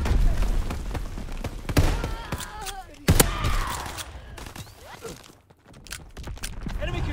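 A grenade explodes and gunfire rattles in Call of Duty WWII multiplayer, with scattered shots, one sharp blast midway, then more distant firing while voices talk over the battle.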